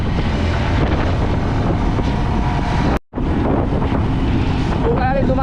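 Strong wind buffets the microphone on a motorcycle with a loud, continuous roar, broken by a brief dropout midway, along with rumbling engine noise.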